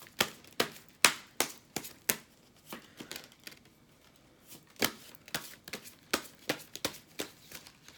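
A tarot card deck being shuffled by hand, producing a series of sharp riffling bursts in irregular rhythm, close and fairly quiet, with no talking.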